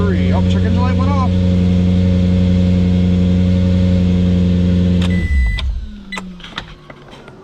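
A fire-damaged car's engine idles with a steady, loud hum for about five seconds, then shuts off and winds down, followed by scattered clicks and faint voices.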